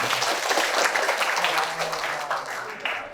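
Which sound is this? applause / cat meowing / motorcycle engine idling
applause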